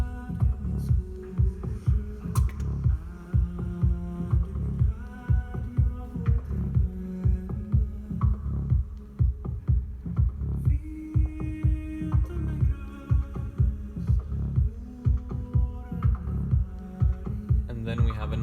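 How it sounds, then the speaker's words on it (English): A busy Sonic Charge Microtonic drum-synth beat pulses steadily, deep kicks and sharp percussive hits repeating over sustained synth tones, loud and continuous. "another sound coming in here, which is also the Microtonic."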